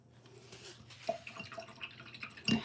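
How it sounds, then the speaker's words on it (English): A paint brush is swished and rinsed in a cup of water during an oyster shell Santa ornament craft, giving soft, faint splashes and drips ending in a sharper clink. "I'm going to clean my brush."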